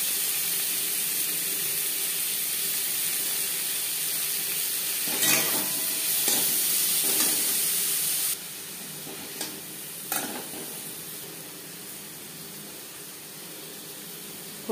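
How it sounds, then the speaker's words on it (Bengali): Chopped onion and prawns sizzling in hot oil in a wok, a steady close hiss that drops to a softer fry partway through, with a few scraping stirs of a spatula against the pan. "কড়াইতে আবারও তেল দিয়েছি, দিয়ে দিলাম একটা পেঁয়াজ, যেটা আমি কুচি করে কেটে নিয়েছি।"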